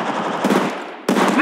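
Rapid automatic gunfire from Apex Legends mobile rattles out in two close, loud bursts separated by a brief pause, with no voices over the shots.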